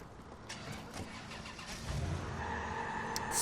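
The Dedsec mobile, a car in the video game Watch Dogs 2, cranks and its engine catches, settling into a steady mid-pitched running hum that swells slightly toward the end, heard alone at a moderate level.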